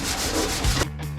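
Close, rhythmic sanding of a Nissan GQ Patrol's bodywork during rust repair: a few quick abrasive rubbing strokes back and forth on a hard surface, loud and unaccompanied by voices.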